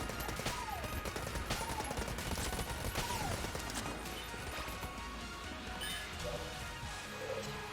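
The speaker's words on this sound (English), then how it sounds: "Go to the machine pistol. I need something that can just fire a lot of bullets." A machine pistol fires rapid bursts in the video game Enter the Gungeon, with quick popping shots and game effects in a dense, busy mix that thins out toward the end.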